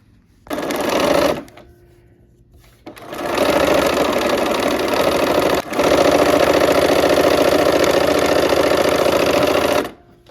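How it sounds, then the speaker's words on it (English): Sewing machine stitching fabric along bias edges, a loud close mechanical whir in one short burst, a pause, then long continuous runs with a brief break, stopping abruptly at the end. "All right, let's go ahead and sew."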